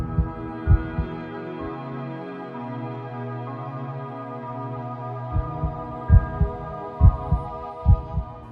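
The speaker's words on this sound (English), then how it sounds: "you can use cardio feedback to listen to your heart rate variability" Herzklang Pro cardio feedback software turns heart rate variability into sound: a steady layered tonal drone with soft, regular low thumping pulses that cluster and grow louder toward the end.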